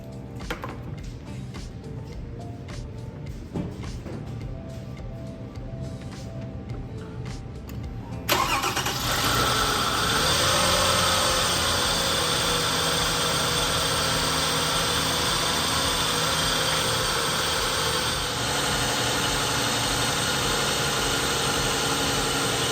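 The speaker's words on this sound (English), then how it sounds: "let's fire it up and test the alternator" A 2006 Toyota Avalon with a newly replaced alternator cranks briefly after a quiet stretch of small clicks, catches and settles into a loud, steady idle with a constant hum, heard close with no talking.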